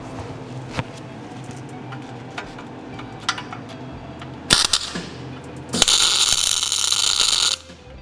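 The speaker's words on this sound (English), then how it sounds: "I'm not going to fully weld it while it's on here, I just want to lock everything in place." Tack welding fixes a winch mount onto a Suzuki Jimny frame: a few light ticks, then a short crackling burst and a sustained, harsh, close buzzing sizzle lasting about two seconds before it cuts off.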